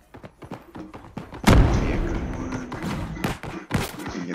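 A grenade explodes in an online shooter video game: a sharp, loud blast lands after a run of light clicks and thuds, then a rumbling decay followed by further gunfire cracks.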